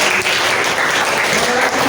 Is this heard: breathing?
no